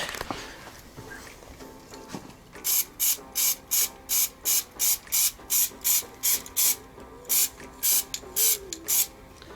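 Short, sharp hisses from a spray paint can coating Vauxhall Corsa E car badges, about a dozen evenly spaced bursts in a quick rhythm over faint background hum, close and fairly loud.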